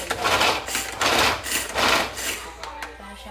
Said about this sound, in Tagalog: Dito natin siya gigiling. Kailangan gumamit ng lakas.